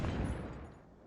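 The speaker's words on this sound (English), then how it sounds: "so it looks like our autoloader is working, or our auto cannon" Rapid autocannon fire from a vehicle-mounted gun in the sandbox game Stormworks: a dense burst of booming reports with a loud onset that quickly tapers off, heard alone.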